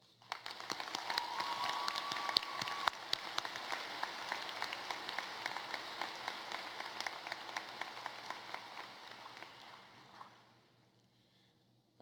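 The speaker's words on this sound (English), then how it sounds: "So I think they get a round of applause." A graduation crowd applauds the students at an outdoor ceremony, a soft, distant wash of many claps holding steady for about ten seconds before tapering off into near silence.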